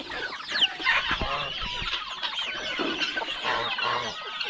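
A flock of geese honks and squawks in overlapping, busy calls, close by and fairly loud, with no talking.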